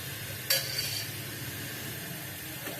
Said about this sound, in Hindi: ये बॉईल होना अल्हम्दुलिल्लाह स्टार्ट हो गई है।